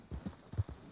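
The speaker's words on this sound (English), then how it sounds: "This horse won't stop until you tell him to stop." Horse hooves clopping in Red Dead Redemption 2, a quick run of four or five low, soft thuds at a galloping rhythm, fairly quiet and brief.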